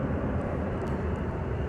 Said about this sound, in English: that's flight, I told you that's flight 9 from Albuquerque.